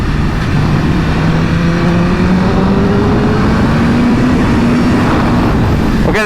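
Engine of a 2026 BMW M1000RR motorcycle while riding, a steady loud drone with a slowly rising engine pitch and heavy wind rush, no talk.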